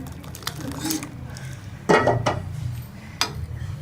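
Spoon clinks against a cup of pink Kashmiri kahwa tea while it is stirred, giving a few sharp metallic taps amid soft swirling, with a voice talking underneath.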